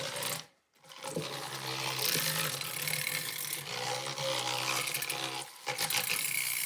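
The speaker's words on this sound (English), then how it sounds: "Okay, now we're gonna whisk." Yogurt whisked by hand in a bowl on a kitchen island, a steady scraping, rasping rhythm that runs almost continuously at close range, broken by one brief pause.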